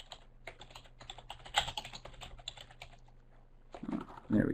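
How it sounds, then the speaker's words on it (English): Typing on a computer keyboard, a close, quick run of light key clicks with a short pause before a final burst of heavier keystrokes. "I can type"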